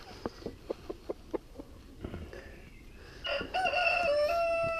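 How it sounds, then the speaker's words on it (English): Chickens in a henhouse give a string of short rhythmic clucks close by, followed by a louder drawn-out crowing call that finishes the stretch. "Oh, hello Mrs. Chicken."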